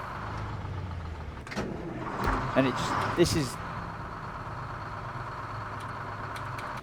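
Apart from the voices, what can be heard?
truck engine idling in SnowRunner video game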